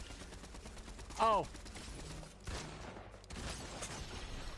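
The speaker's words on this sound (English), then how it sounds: "Oh, he got the headshot on me." A gunshot headshot cracks out in a Fortnite match, followed by a few sharper in-game impact sounds over a steady game background, with a man's short exclamation over the top.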